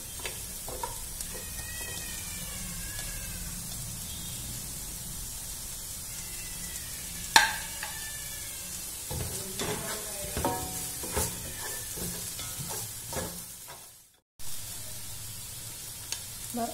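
Shallots and curry leaves fry in hot oil in a pan, alongside crushed green chilies, for Kerala pearl spot fish (karimeen pollichathu). A steady close sizzle carries occasional stirring scrapes, and faint chirps sound in the background before a brief cutout near the end.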